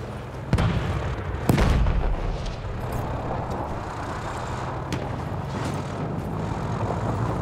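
A grenade goes off in the World War I shooter Battlefield 1. Two sharp booms land about a second apart, followed by a rumbling, noisy battlefield wash of distant gunfire and engines.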